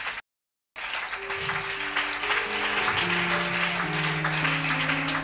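A church congregation applauds, a dense, steady wash of clapping that swells after a brief gap of silence and carries on, with organ or keyboard chords sounding underneath.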